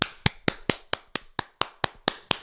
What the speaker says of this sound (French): je pose le micro et je m'applaudis